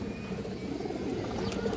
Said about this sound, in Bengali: বড় মাথার কবুতর।